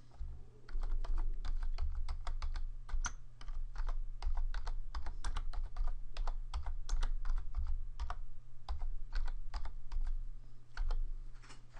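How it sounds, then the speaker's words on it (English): Typing on a computer keyboard, a steady stream of close, crisp key clicks in irregular bursts with short pauses, over a low constant electrical hum and no talking. "I click here and I type in a message"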